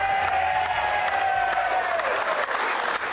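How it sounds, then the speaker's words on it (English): Studio audience applauding on a sports talk show, dense continuous clapping with a few cheers, steady and fairly loud throughout. "keep the applause going for Hammy."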